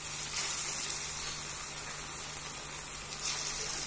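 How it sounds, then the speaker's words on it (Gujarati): Ragda patties crackle as they fry in hot oil: an even, moderately loud hiss and bubbling with a few brief swells and a low steady hum in the background. "જ્યાં સુધી મિત્રો પેટીસ તળાઈ રહે"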